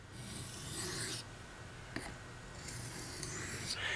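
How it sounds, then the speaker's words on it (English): Light alternating strokes of a knife across a soft Arkansas sharpening stone to remove a burr, giving several raspy scraping passes with short pauses between, close and fairly quiet, no voices. "I'm going to use alternating strokes, light alternating strokes, to remove that burr"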